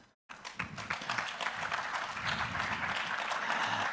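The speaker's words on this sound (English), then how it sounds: "and we clap hand, please." A regional research symposium audience breaks into loud clapping after a brief silence, a dense, sustained burst of hands that continues to the end.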